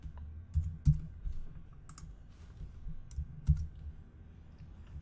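Computer keyboard typing in a quiet room, a few scattered clicks and short bursts of keystrokes at close range, with soft pauses between them.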